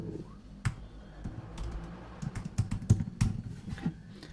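Heading text being typed on a computer keyboard, an irregular run of close, crisp key clicks with a few louder strikes, heard alone without speech.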